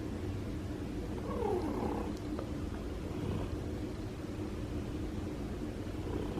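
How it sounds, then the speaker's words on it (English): An injured, recovering feral cat purrs steadily up close, a low continuous rumble with a faint higher chirp partway through. "You hear the purring?"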